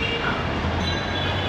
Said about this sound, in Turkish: tramvay da geçiyor sanırım